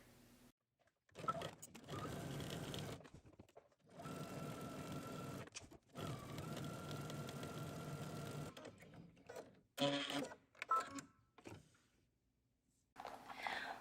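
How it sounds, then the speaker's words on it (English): A home sewing machine stitching a skirt seam, running in several sustained motor whirring bursts of a few seconds each, separated by pauses with soft handling noises, close and fairly quiet with no talking. "from this fold all the way to the other, you're going to stitch 1 1/4 inches"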